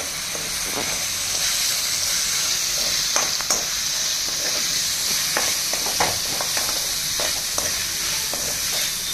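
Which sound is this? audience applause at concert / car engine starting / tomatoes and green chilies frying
tomatoes and green chilies frying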